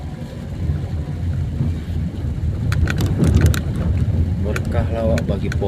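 Rain falling outdoors over trees and road, a steady dense hiss with scattered sharper drops, with a person talking over it.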